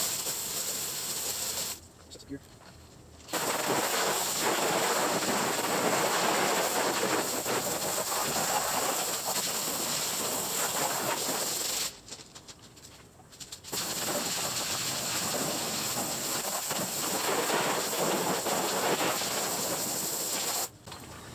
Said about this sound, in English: get a hose and put it on, full jet and just spray away